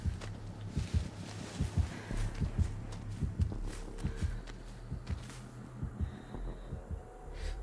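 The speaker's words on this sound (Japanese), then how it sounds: "心音がしたときはなるべく走ったりしない方がいいですね。" Heartbeat terror sound in the horror game Dead by Daylight: a low, muffled, steady thumping pulse that repeats at an even pace for several seconds, with no talking.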